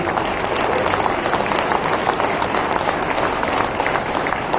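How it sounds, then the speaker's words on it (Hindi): A large crowd at a Hindu Vahini stage event in Hyderabad claps loudly with hands raised, a thick, unbroken roar of applause that holds at a constant level throughout. "मेरे सभी भाई हाथ ऊपर करके जोरदार तालियां बजाएंगे"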